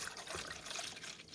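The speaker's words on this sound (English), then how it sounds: "So let's pour our water in." Water pours steadily into the reservoir of a Hamilton Beach 49615C 12-cup programmable coffee maker, a soft, continuous trickling splash at close range without pause.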